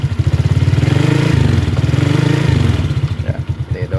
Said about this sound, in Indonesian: saya suka dari motor ini itu knalpotnya itu suaranya agak kebas ya